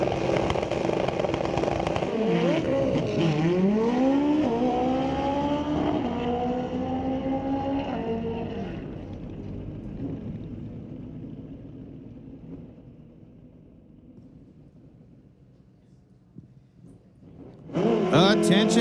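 A 2020 Suzuki GSX-R drag racing motorcycle with a 1500 engine launching at Mission Raceway, a loud rising engine scream through rapid gear shifts that fades into the distance, before another loud engine roar at the end.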